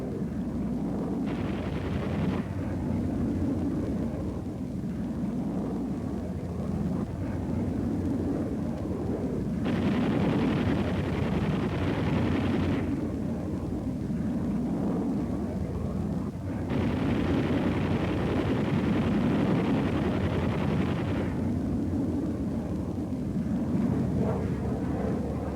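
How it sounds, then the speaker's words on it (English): Military jet aircraft in the Korean War roaring overhead, a loud steady jet rumble that surges and eases in several long waves, with no voices. "Mission completed, the jets peel off and head for home."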